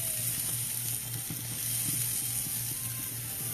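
A T-bone steak sizzling on an outdoor grill on a cold night, a steady faint hiss with small irregular crackles and pops running continuously.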